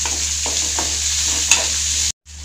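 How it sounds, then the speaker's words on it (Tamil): Chopped onion, curry leaves and a single green chili fry in a pan toward golden brown for a mutton semi gravy, making a steady bright hiss with a few soft stirring taps and a brief dropout near the end. "ஆனியன் கருவேப்பிலை ஒரே ஒரு பச்சை மிளகாய் இது மூணையும் சேர்த்துக்கறேன் சேர்த்துட்டு நல்லா கோல்டன் பிரவுன் ஆகுற வரைக்கும் வதக்கிக்கலாம்"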